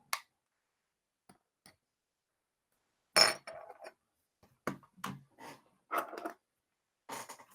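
Small plastic clicks and soft pops as rubber grommets are pulled off the underside of a ROG Gladius III gaming mouse, a few brief close taps scattered among near silence.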